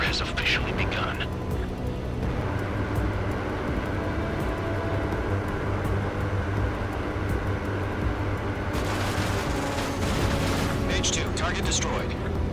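Anti-aircraft guns fire during a combat mission in the Ace Combat 7: Skies Unknown flight game, a dense, continuous barrage with heavy rumbling blasts and hissing bursts, loud and close, with radio chatter mixed in over the battle noise.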